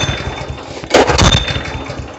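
A Honda GX160 engine on a plate compactor being started, a quiet rumble before a sudden pull and catch, then the small engine running on in an uneven mid-pitched chug close by.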